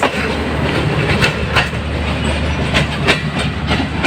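The 27 Up Shalimar Express rolls through Nawabshah railway station with a steady rumble and rhythmic clickety-clack of wheels over rail joints, loud and close throughout.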